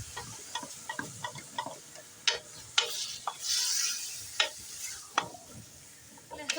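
Beef fries with ginger and garlic for nalli nihari: a low sizzle runs under irregular spatula clicks and scrapes against the pan, with a short hissing surge midway. There is no talking.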